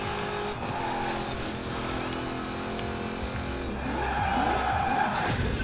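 A race car skids in the Forza Horizon 4 video game during a 1960s autumn event, with a loud engine drone, squealing tires and sweeping pitch changes as it slides.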